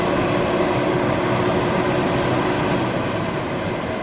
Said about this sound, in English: It sounds like a house fan, which essentially it is.